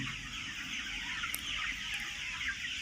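Sonali chickens cluck and murmur in a dense, continuous flock chatter, moderately close with no voices over it.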